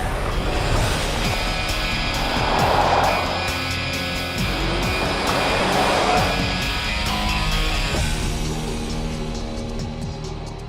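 A Rolls Royce Ghost pulls away from a standing start on city streets, its engine a steady, muted roar that swells smoothly over about ten seconds, with no talk.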